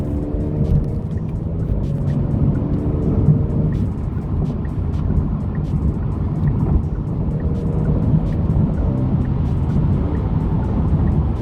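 A 2022 Genesis G70 Launch Edition engine revving and shifting between 3,000 and 4,000 rpm, a loud, continuous in-car drone with rising and falling pitch and faint pops.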